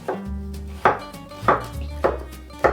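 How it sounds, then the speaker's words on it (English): A knife chops big juicy tomatoes on a board for dal in five firm, evenly spaced strokes, close and clear with no talking. "Now I'm going to chop some tomatoes."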